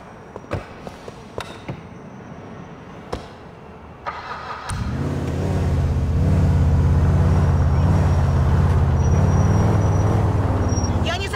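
A car in GTA 4 with a few door and handling clunks followed by an engine starting and then a steady, loud engine hum as the car drives away. A voice talks over the sounds.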